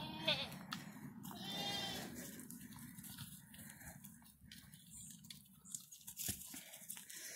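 Goats in a farm pen, with new animals just introduced to the herd, bleat over a steady low rumble of livestock noise. A few short, distinct calls stand out near the start, and others sound faint and muffled.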